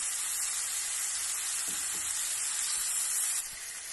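Pieces of pork tongue frying in a pan, a steady bright sizzle and hiss close up, with a few soft stirring knocks, the sizzle dropping slightly near the end.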